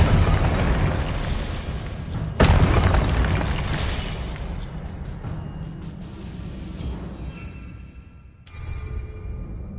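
Spell effect in Hogwarts Legacy gameplay: a sharp, booming burst lands partway through, over a dense, rumbling game soundscape. A second abrupt hit follows near the end as the noise fades.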